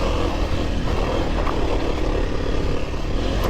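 A Kawasaki KLX300R off-road trail motorcycle engine drones steadily during a ride, a loud, rough low rumble with wind noise that holds constant throughout and has no voices over it.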